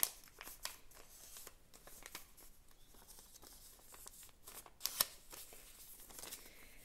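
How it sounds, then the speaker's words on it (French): Paper is folded and its creases are pressed down, producing faint, close crinkles and sharp little scrapes scattered irregularly across a quiet room. "Je marque bien les plis pour être rigoureux."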